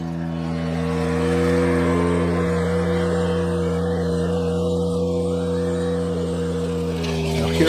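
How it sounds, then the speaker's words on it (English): Ventrac 4520 tractor running its power rake attachment, drum lowered and digging backwards into the dirt of a gravel driveway, a steady loud engine drone with continuous rumbling scraping throughout, no talking. "I'm digging into that dirt and going backwards because the power rake actually spins at a higher rate of speed going backwards"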